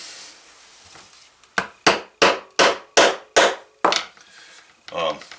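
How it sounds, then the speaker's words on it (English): A hammer strikes a leatherworking tool into leather six times in a steady rhythm, sharp and close, while making a bi-fold wallet, followed by a couple of softer taps. "you don't got to get wild with the hammer."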